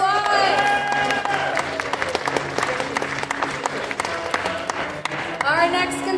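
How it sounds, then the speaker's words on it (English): A crowd applauds at a live contestant show while music with sustained tones and percussive hits plays loudly over the clapping. "And give them a round of applause."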